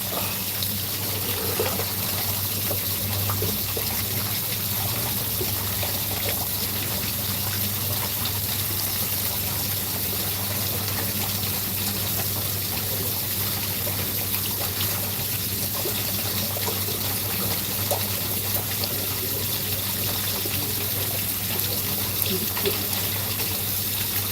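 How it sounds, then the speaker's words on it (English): A little waterfall spills continuously into a hot tub in Cocoa Beach, Florida, giving an even, close splashing trickle over a low pump-like hum throughout, with faint murmurs here and there. "relaxing in the hot tub with a little waterfall right here"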